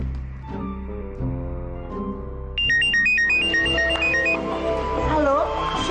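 A telephone rings with a melodic electronic ringtone in a home scene from an Indonesian children's show, playing loud over background music before a brighter high-pitched tune takes over.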